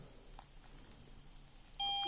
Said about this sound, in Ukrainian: І дивіться, вона відразу пищить.